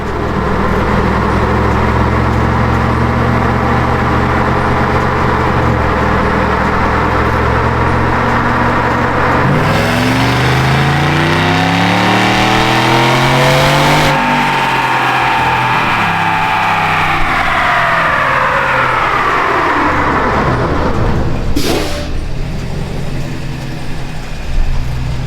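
A supercharged Chevrolet Silverado pickup engine runs on a dyno, droning loudly at first and then sweeping up sharply in pitch on a full pull toward 5,200 RPM before falling back down. No one speaks over it.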